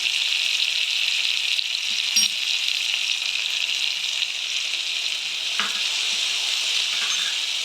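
A spice paste fries with onion and tomato in a pan, making a loud, even hiss, with a couple of brief stirring knocks along the way.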